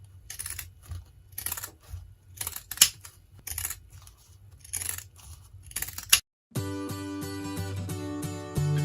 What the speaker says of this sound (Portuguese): vou pegar a tesoura de picotar e vou cortar toda a volta